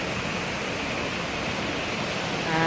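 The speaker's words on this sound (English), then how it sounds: "You can see the waterfall over here." Steady broadband rush of a waterfall pouring into a canyon on the North Coast Trail, a constant dense roar filling the whole clip at close range with no voices.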